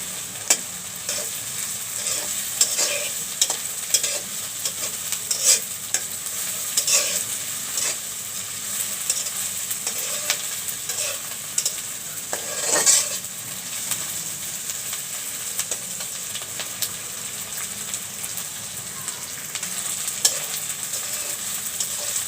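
Dried loitta fish (Bombay duck) frying in a pan, with a steady close sizzle and hiss broken by repeated scraping stirs of a utensil against the pan.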